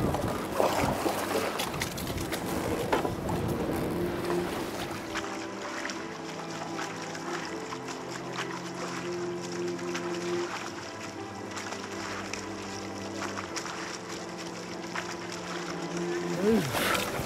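Oars working a rowing boat on a river, with faint rhythmic water strokes and wind under steady talk from the crew and a coach.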